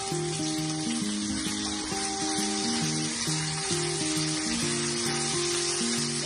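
Onion and garlic sautéing in fresh oil in a pan make a constant crackling sizzle, with a simple music tune playing over it.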